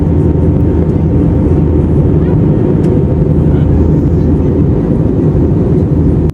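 Steady, loud low-pitched roar of an EasyJet airliner cabin during a flight from Glasgow to Antalya, a continuous engine and airflow drone with no speech, cutting off abruptly at the end.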